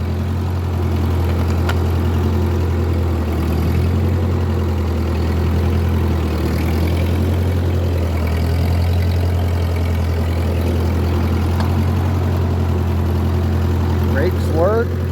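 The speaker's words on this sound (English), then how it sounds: "A really good running little tractor." A 1950 Ford 8N tractor engine idles steadily with a low, constant rumble, loud and close throughout, with no change in pace.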